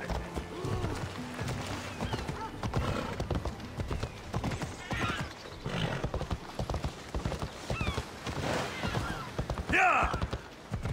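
Horse hooves clip-clop in a galloping rhythm in Assassin's Creed Odyssey, with whinnies and snorts mixed in, plus game ambience and occasional thuds, close and continuous throughout.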